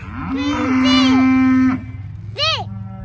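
Angus cattle moo in a farm setting, one long drawn-out low call followed by a second shorter moo, close and clear with faint background noise.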